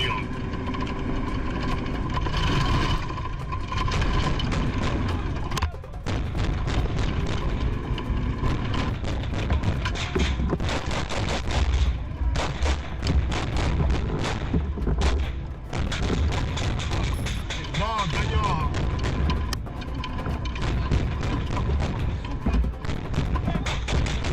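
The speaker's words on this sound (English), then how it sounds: "the Humvee crew was engaged by several fortified Russian machine gun positions" Combat footage of a Humvee crew under fire from several fortified Russian machine gun positions: dense, continuous loud gunfire and heavy booms with an engine rumbling underneath, relentless and close for the whole stretch.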